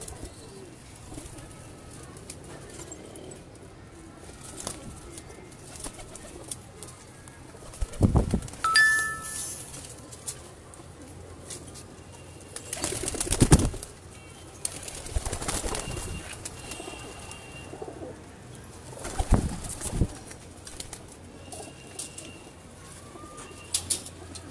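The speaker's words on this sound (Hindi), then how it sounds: "मैं एक दफ़ा फिर आपको सारे कबूतरों का एक दफ़ा दोबारा जो है वो" Pigeons kept by a fancier coo softly and repeatedly at close range, with several loud bursts of wing flapping standing out at intervals over the calls.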